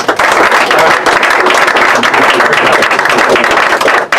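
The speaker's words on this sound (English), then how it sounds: "Give him a big round of applause." Loud, dense applause from an audience at a group gathering fills the room steadily for several seconds, a close, continuous roar of clapping with faint voices mixed in and a brief dip near the end.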